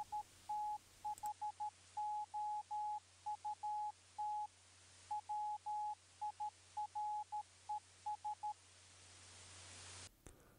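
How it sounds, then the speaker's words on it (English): A Morse code radio signal beeps out a run of short and long steady tones in irregular groups over a background of radio hiss, with a brief gap of silence near the start. "Morse code communication was reliable but slow."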